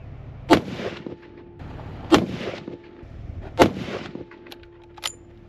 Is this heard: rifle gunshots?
yes